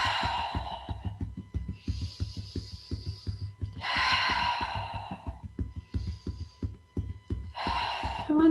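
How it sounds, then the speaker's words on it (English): Slow yoga breathing, drawing air in through the nose and releasing it out through the mouth, with several long, soft breath sounds rising and falling close by over a steady low rhythmic pulse. "You might choose to inhale through the nose and exhale out through the mouth."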